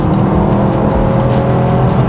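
A Subaru WRX STI engine pulls steadily in third gear, a loud, close, continuous drone with a deep throbbing exhaust note and no talking over it.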